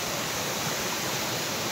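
A waterfall in a hilly outdoor spot roars as a steady, broad rush of falling water, constant and fairly close, with no talking over it.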